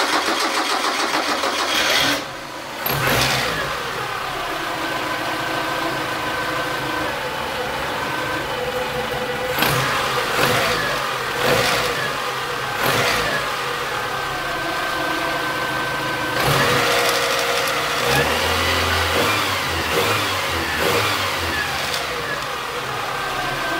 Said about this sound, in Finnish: Ja sitten kokeillaan tätä autoa käyntiin.